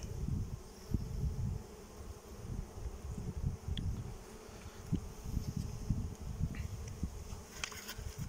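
Ukrainian steppe bees hum in a dense, continuous drone near an apiary hive, with individual insects buzzing close by and passing, no voices.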